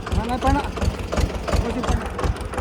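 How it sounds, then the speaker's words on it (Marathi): A tractor engine idles nearby on a farm, hitched to a cart, with a steady low chugging throb, while someone talks over it. "याला ट्रॅक्टर चालू"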